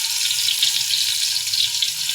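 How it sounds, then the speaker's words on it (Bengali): Fish hitting hot oil in a pan gives a loud, steady, bright sizzle and crackle that holds evenly without any pauses. "এর মধ্যে আমি মাছ দিয়ে দিব।"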